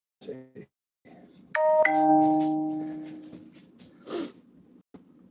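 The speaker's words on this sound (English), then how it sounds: "Ding dong." A doorbell chimes twice in a close two-tone ding-dong, the second note ringing out and fading over a few seconds, with a brief soft breathy noise afterward.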